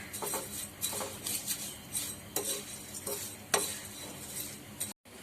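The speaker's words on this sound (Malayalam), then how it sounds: "സേമിയയും കൂടെ നമുക്ക് വറുത്ത് കോരാം" Scraping and clinking of a spoon stirring vermicelli frying in a pan, repeated at an uneven rhythm over a soft, steady sizzle.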